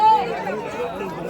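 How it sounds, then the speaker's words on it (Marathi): Crowd chatter at Dwarkadhish temple in Virar, a steady murmur of many overlapping voices close around, with no single voice standing out. "हे बघा गर्दी पण आहे खूप."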